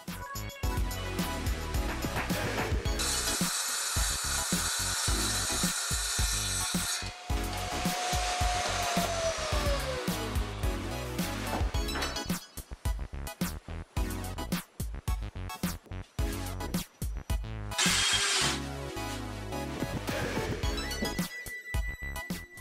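A power tool cuts through a fermacell board during a renovation, its intermittent whining and rasping bursts, some sustained and some choppy, close and moderately loud with gaps between passes.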